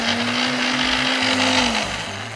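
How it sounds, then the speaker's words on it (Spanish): Kitchen blender whirring as it purees a dressing, a loud steady motor drone that holds its pitch and then drops slightly near the end, with rhythmic chopping pulses underneath and no voices. "Esto lo voy a licuar."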